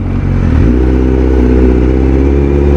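Dense road traffic with engines idling and revving close by, a motorcycle or car accelerating amid a steady low rumble, no talking.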